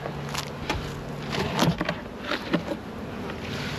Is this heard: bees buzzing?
yes